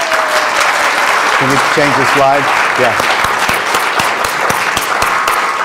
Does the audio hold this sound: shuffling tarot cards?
no